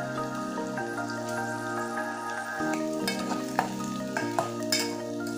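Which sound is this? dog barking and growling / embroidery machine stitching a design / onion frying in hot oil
onion frying in hot oil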